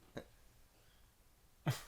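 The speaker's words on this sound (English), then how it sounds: "Just gonna cough in the distance." Two short coughs with a quiet pause between them, the second louder and nearer, over faint room noise.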